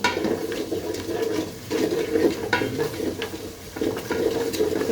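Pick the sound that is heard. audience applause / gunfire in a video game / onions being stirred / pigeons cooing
onions being stirred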